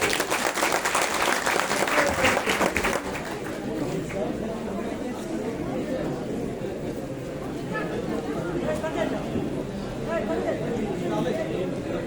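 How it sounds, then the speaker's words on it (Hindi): An indoor audience breaks into strong applause that is dense and loud at first, then thins into a lighter patter mixed with crowd chatter and talking. "एक बार जो है जोरदार ताली।"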